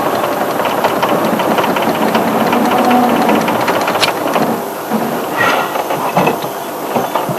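A vehicle engine runs steadily up close on an elephant-watching outing, a continuous loud rumble filling the whole stretch with no speech over it.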